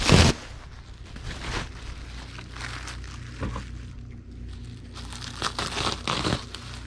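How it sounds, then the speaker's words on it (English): Plastic bubble wrap crinkles and rustles as a sheet is cut in half, opening with a sharp loud crackle, then irregular softer crumpling and snipping noises close by, with no talk. "let's go ahead and get our sheet of bubble wrap and cut it in half"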